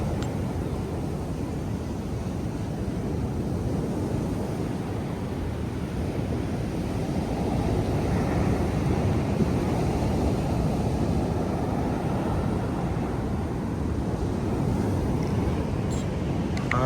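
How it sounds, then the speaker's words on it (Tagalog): Strong sea waves surging near a beach cottage, a continuous heavy roar of surf with broadband rush and wind buffeting the microphone, steady and close throughout with no talking. "Ang lakas ng alon."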